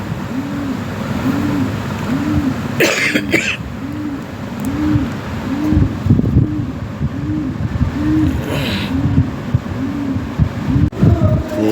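Modena and Lahore pigeons cooing in a loft, a steady run of low rounded coos repeating roughly every half second, with rustling, wing flutters and occasional background clatter.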